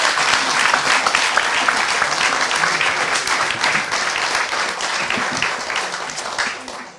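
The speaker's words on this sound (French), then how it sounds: "Je pense qu'on peut applaudir Zineb" Sustained audience applause in a hall after a talk at a workshop on Islam: thick, loud, continuous clapping from many hands, holding steady for several seconds before thinning at the end.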